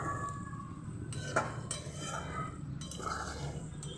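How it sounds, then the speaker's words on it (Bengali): Chicken curry is stirred in a pan while cooking, with soft scraping and a few light metallic clinks of a spoon against the pan, quiet and close. "তো আমি এটাকে ভালোভাবে নেড়ে চেড়ে নিয়ে কষিয়ে নেব।"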